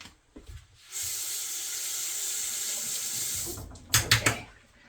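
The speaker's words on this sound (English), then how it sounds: "And then I have to rinse this spoon off." A spoon rinsed under a running kitchen tap, with a steady hiss of water flowing for nearly three seconds and then a few clinks and splashes as it stops.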